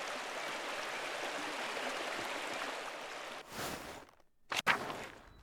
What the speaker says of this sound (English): The waterfall is always so beautiful.